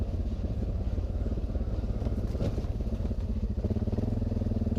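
An ATV rumbles along a trail, a steady close-up engine drone with low pulsing throb and faint rattles, no pauses.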